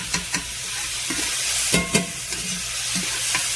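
Mushrooms cook in a hot pan with a continuous close sizzle, broken by several stirring scrapes and knocks from a utensil and with no talking.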